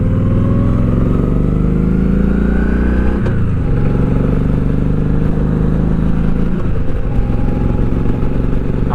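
A metric cruiser motorcycle engine runs loud and steady up close, its pitch rising under throttle and then dropping sharply at about three seconds, with a second brief dip later, as the rider shifts gears.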